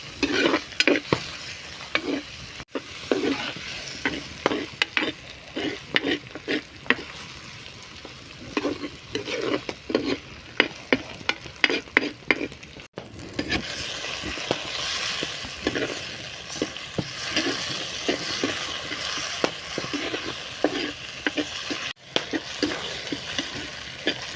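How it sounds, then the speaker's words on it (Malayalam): Chopped tomatoes and onions sautéing in a pan for a fish curry, a close, continuous sizzle broken by repeated scraping stirs of a spoon, steady and loud throughout with no talk. "നമുക്ക് കുറച്ച് തക്കാളി അരിഞ്ഞത് ഇട്ട് കൊടുക്കാം തക്കാളി സവാളയൊക്കെ നന്നായിട്ടൊന്ന് വാടട്ടെ"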